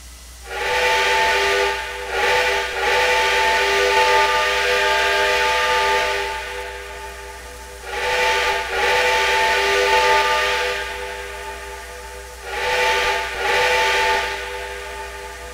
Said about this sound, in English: And these engines have the same whistle.